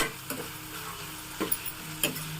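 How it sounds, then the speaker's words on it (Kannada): Garlic frying in a pan for a home-style cooking dish, with a steady soft sizzle broken by a few sharp stirring clacks at close range, no voices. "ಬೆಳ್ಳುಳ್ಳಿ ಹಾಕೊತಾ ಇದ್ದೀನಿ ಚೆನ್ನಾಗಿ ಫ್ರೈ ಮಾಡ್ಕೊಳ್ಳೋಣ"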